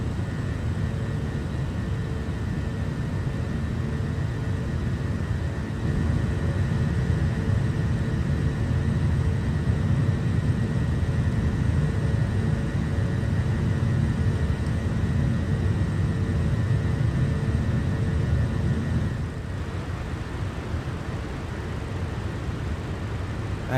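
Steady jet engine drone of an MD-80 airliner in Microsoft Flight Simulator, a constant low rumble with a faint high whine, dipping slightly near the end.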